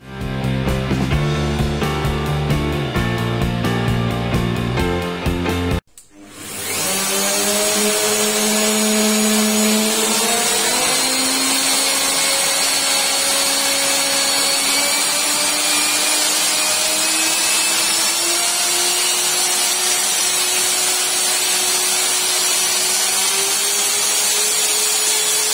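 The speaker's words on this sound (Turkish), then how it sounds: "frezemizi yavaş çekimde çalıştırıyoruz" An Erbauer ER2100 router switches on after music cuts out, then runs loudly and steadily with a rising whine as the motor spins up and holds a high tone with no talk.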